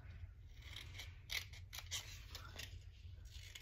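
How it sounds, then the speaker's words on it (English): Scissors cutting a strip of paper for a scrapbooking banner give a few crisp snips and a slide of blades, close but quiet, over a low background hum. "Let's cut it about in the middle"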